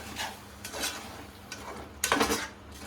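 A spoon scrapes and clinks against a pan while ground tomato is stirred into chicken macaroni, in several close bursts of metallic scraping, the loudest near the end, with no talking.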